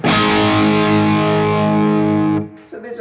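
Distorted electric guitar through a Bogner Ecstasy Classic tube amp in its old mode rings out loud and sustained for over two seconds, then cuts off into a brief scrap of quieter playing.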